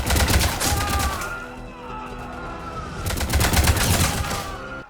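Turret gunfire in Mass Effect Legendary Edition: loud rapid automatic bursts, one at the start and another after a short lull filled with humming tones and mechanical whirs, close and punchy.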